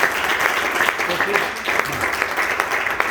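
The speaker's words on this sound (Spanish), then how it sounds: "Denle palmas al Señor." A church congregation clapping together, a dense, steady patter of many hands that carries on evenly throughout, with some voices mixed in underneath.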